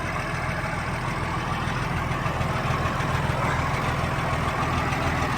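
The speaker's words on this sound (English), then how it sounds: "Probably one of the best old running diesel tractors I have of this era." An old Oliver diesel tractor engine runs at a steady idle, a loud, close, continuous low rumble with an even throbbing pulse and no voices.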